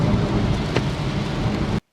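Rain falling during a drive near Vancouver, a dense, steady wash of noise heard from inside a moving car, loud and continuous for under two seconds before cutting off abruptly.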